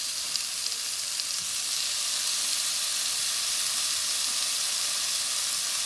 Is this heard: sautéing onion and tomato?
yes